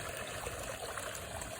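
A small garden waterfall flows with a steady, quiet rush of falling water and no other sounds.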